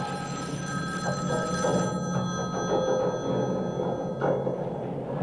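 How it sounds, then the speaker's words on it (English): A telephone bell rings steadily in a horror film scene, its tone sustained beneath a dense, busy background. No one speaks. "Your phone's ringing."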